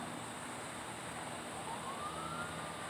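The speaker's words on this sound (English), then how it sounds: "Yeah, sirens." Emergency vehicle sirens wail faintly in the distance, a thin rising tone above a steady background hum.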